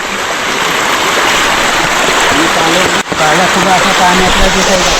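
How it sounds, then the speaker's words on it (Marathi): Heavy monsoon rain pours steadily onto a swollen river during a downpour, a dense continuous wash of water noise with running current beneath, loud and close throughout, briefly dipping near the middle; a voice speaks faintly under it. "पाऊस जोरात पडतोय"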